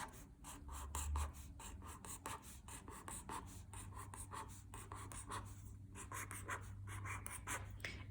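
Pen drawing a diagram for a fractions word problem, with steady scratchy strokes and short pauses running close and fairly quiet throughout, with no talk.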